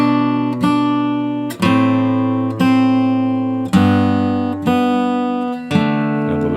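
Guitar picking a beginner chord melody exercise built from open strings and fretted bass notes resolving to a G, with sustained chords struck about every second in a steady, clear, close rhythm, no talking.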